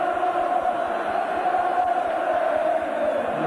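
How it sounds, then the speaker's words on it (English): A packed football crowd at a 1984 Newcastle United versus Brighton and Hove Albion match chants Keegan's name, a steady massed roar with a rhythmic pulse running throughout. "And the crowd have only one name on their lips."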